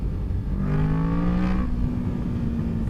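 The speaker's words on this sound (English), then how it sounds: "I like the little backfires the engine's getting." A motorcycle engine revs up and drops back on an open road, its rising and falling whine over steady rumbling wind noise, with faint irregular pops as the engine backfires.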